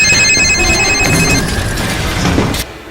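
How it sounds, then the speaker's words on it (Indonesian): Several mobile phones ring loudly at once in a house during a film scene, layered electronic ringtones sounding together before cutting off abruptly near the end. "Mereka pun mencoba mematikan semua handphone yang berbunyi."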